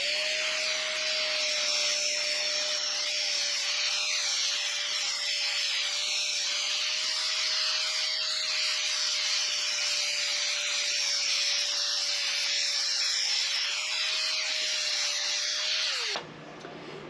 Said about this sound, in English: we're going to take our cutoff wheel and we're going to cut this out